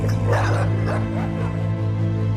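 A dog of a breed once found only in Malaysia barks and yips in short bursts, fairly close, over a steady low background hum.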